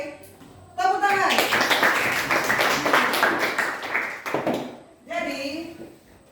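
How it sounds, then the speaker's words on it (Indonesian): A classroom group claps steadily for several seconds in a history lesson, a dense burst of hand clapping with the teacher's voice heard briefly before and after. "Tepuk tangan."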